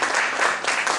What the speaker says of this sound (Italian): ai quali per questa bella cosa ti voglio un applauso